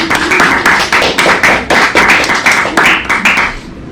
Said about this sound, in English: A brief silence, then a ripple of applause.